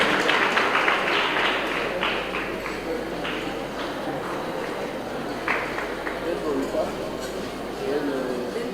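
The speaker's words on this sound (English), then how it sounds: "A round of applause. Let's applaud them." A crowd claps steadily for the debaters of a nursery and primary school at a schools debate championship final. The dense, continuous applause runs the whole time, with voices talking over it.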